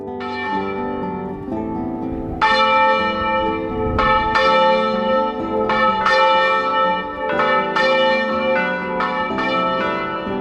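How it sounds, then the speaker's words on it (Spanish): Old church bells in Guatemala City ringing out, several large bells struck in an overlapping, irregular peal with long ringing decays, loud and close, no voices. "En todas las ciudades, las campanas forman parte de la vida."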